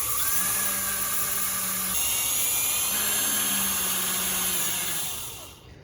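A power drill spins the broken end of a tachometer cable with a high, steady whine and motor drone. The pitch shifts a few times as the speed changes, and the sound fades out at the end.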